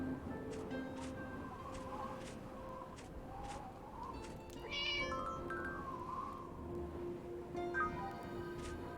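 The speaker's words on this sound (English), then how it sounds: "That cat is adorable." A cat meows several times in the video game Harvest Moon: The Winds of Anthos. The short, high calls repeat over soft background music and ambience, and there is no speech.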